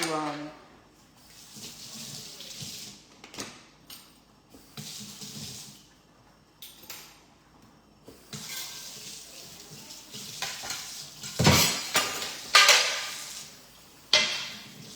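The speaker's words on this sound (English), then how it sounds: "just rinse this off real quick" Tap water runs into a kitchen sink while something is rinsed during cooking of chicken piccata and chicken soup, a hissing splashing flow that swells and breaks, with clinks of pots and dishes.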